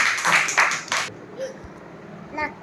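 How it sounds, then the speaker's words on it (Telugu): Children in a primary school classroom at Pendipeta, Ambajipeta mandal, clap in a short burst of several quick, loud claps over the first second, then quiet room noise with a brief voice and a faint ring near the end. "చప్పట్లు కట్టండి."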